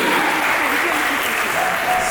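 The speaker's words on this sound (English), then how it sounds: "We give a big round of applause to welcome Mataji." Steady, dense applause from a crowd welcoming a speaker at a temple lecture, loud and continuous throughout, with no pauses.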